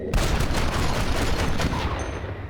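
Sustained gunfire in Red Dead Redemption, a dense, loud, continuous barrage of overlapping shots that thins slightly toward the end.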